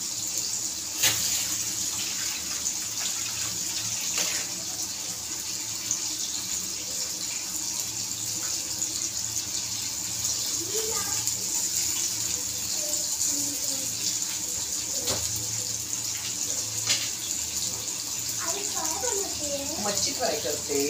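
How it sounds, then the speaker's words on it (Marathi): Water runs from a kitchen tap over hands being washed, a steady close rush that fills the whole clip, with a voice speaking briefly near the end. "हात धुवून घेते थोडंसं."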